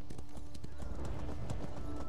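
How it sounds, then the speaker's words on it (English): Steady clip-clop of horse hoofbeats while riding in the Elder Scrolls Online game during PvP in Cyrodiil, a quick even rhythm under constant ambient game noise. "Just ride my horse."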